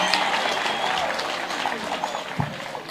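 Crowd applause for an elder at a public gathering addressed by Kenya's Interior Cabinet Secretary, a steady dense patter of clapping from many hands lasting the whole stretch, with faint voices mixed underneath.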